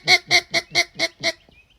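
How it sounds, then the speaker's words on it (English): A handheld duck call is blown on a porch, six loud, evenly spaced honking quacks in quick succession, then a faint trailing note and quiet. "I just used this duck call on my porch"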